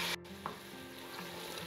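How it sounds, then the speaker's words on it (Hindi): Masala fries in ghee in a pan, a close, soft, steady sizzle with a faint stirring scrape near the start and no voices. "मसाला जो है वो भुनने वाला है"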